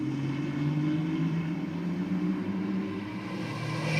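Diesel four-wheel drive vehicles drag racing at Sydney Dragway at night, a steady heavy engine roar held throughout, loud and continuous with a slight dip near the end.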